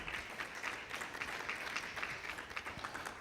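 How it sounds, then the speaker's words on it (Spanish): Applause from a church congregation, an even, sustained patter of many hands clapping at a distance, moderately faint and holding steady without a break. "Donde están, le dan un aplauso al Señor."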